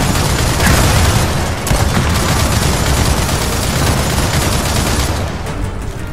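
Blind-fire gunshots in Gears of War 4, a loud, dense, sustained barrage of rapid shots and booms with no pauses.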